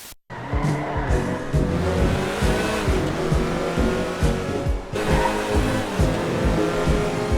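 Ferrari 328 sports car driving in the NES game Wall Street Kid, rendered as a loud, steady chiptune engine roar with rapid pulsing tones and a brief dip midway, alone without talk.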